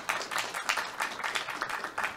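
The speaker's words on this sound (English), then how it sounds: "Round of applause." Audience applause after a conference talk on formal methods in the enterprise, a steady crackle of many hands clapping from a room of listeners, moderately loud and continuous with no talk over it.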